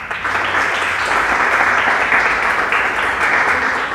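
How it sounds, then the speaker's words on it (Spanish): A church congregation at a Sunday service bursts into strong, sustained applause, a dense steady wash of many hands clapping together at close range for the full stretch. "Démosle un fuerte aplauso."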